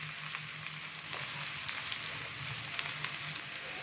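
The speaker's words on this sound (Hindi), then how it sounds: "तो लहसुन डालने के बाद हल्का सा हम इसको फ्राई करेंगे" Garlic frying in a pan for brinjal curry crackles with a soft, continuous sizzle, quiet and close, with occasional small pops and no talk.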